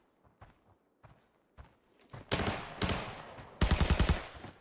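Gunfire in the video game Arena Breakout: a few sparse single shots and footsteps, then two loud rapid automatic bursts close by, each a dense rattle of shots.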